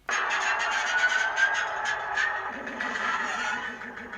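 A pod-racer engine sound effect from a Star Wars Ahsoka replica lightsaber, a continuous buzzing, raspy whine with a warbling pulse that grows in the second half, heard close and alone.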